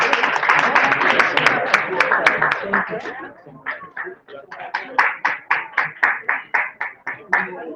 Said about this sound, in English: We get a round of applause, please.